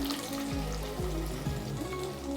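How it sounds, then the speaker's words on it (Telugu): Boiled soya chunks fry in hot oil with curry leaves, giving a continuous close sizzle that plays under background music. "మనం ఉడకబెట్టుకున్న సోయా చంక్స్ అన్ని దీంట్లో వేసుకోవాలి నూనెలో వేగితే సోయా చంక్స్కి టేస్ట్ వస్తుంది"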